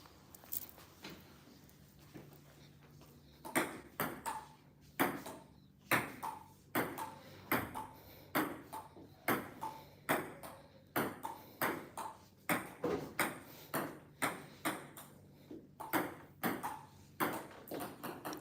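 A table tennis ball clicks in quick irregular rallies, sharp bright pings off paddle and table repeating close by, sometimes in fast bursts, with brief pauses between points, recorded casually at home.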